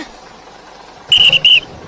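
A bus whistle in the Bus Simulator Indonesia game sounds two short, shrill blasts in quick succession, loud and clear over a quiet background hum.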